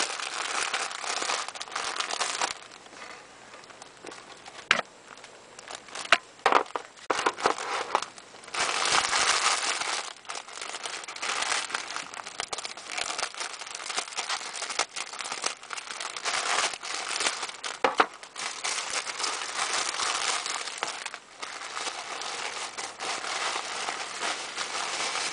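Tissue paper being unwrapped from a mystery candy box, close and continuous crinkling and rustling with sharp crackles and brief pauses, heard alone without any talk.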